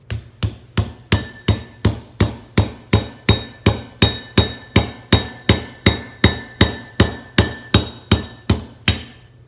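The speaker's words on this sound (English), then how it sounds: "So we're just gonna hammer it." A manual wine stopper being hammered to drive a cork into a wine bottle, about twenty sharp, evenly spaced knocks at a steady fast rhythm, loud and close, with no talk.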